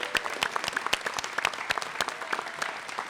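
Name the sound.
audience applause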